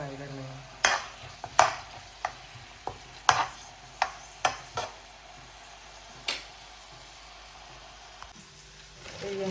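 Onions frying in a pan with ginger, chilies and a little tomato, a soft low sizzle under a series of sharp spatula taps and scrapes against the pan, spaced irregularly and then tapering off.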